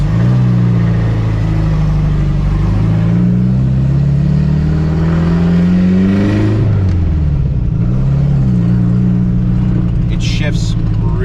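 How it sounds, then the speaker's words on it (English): A modified 1976 Porsche 912E pulls away in first gear, its engine note rising and falling loud and close through about eleven seconds with a brief lull midway. A person talks over it. "let's go ahead and start up again. Go for a ride. So we just shifted into first."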